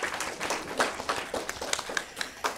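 Audience applause for a poet after a poetry reading at a performance event, moderate clapping with distinct individual claps, fairly soft and a little distant.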